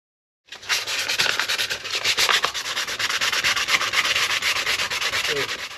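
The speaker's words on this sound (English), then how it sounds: "Just sanded quite a bit. I'll remove the top layer." Paint is sanded off a motorcycle helmet by hand, a steady, close, rasping rub that starts after a brief silence and continues without talk.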